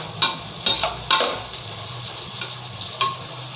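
Onions sauté in a pan for chicken biryani, with a soft steady sizzle broken by several sharp spatula scrapes and taps against the metal, close and clear.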